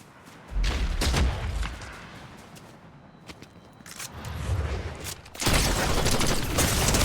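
Shotgun blasts and explosions in a video game come as heavy booms in clusters, with rumbling bursts early on and a dense, loud barrage toward the end.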